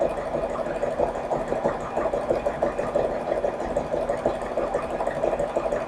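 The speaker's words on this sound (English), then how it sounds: "Let the sewing machine pull your work, and you're just going to lightly glide it through." A sewing machine runs a continuous stitch, a steady, even mechanical hum with fine rapid ticking, moderately close and uninterrupted.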